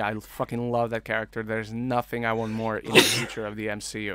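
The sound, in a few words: sneeze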